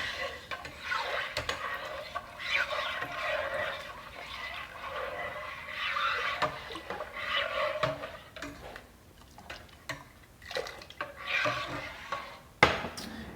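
A utensil stirs rennet into warm milk in a pot for cheesemaking, soft repeated swishing and light knocks against the pot at close range, with a sharper clack near the end.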